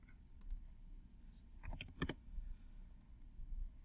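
Computer mouse clicks while drawing and constraining a sheet metal sketch in Fusion 360: a few sharp, close clicks scattered through a quiet room, including a quick cluster near the middle, with no talking.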